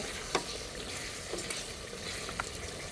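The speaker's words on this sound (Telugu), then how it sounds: "బిర్యానీ మసాలా పౌడర్ మొత్తం ఒకసారి కలిపేస్తుంది" Spices and biryani masala powder stirred into curry frying in a pan outdoors, a close steady sizzle with a few scraping strokes of the spoon.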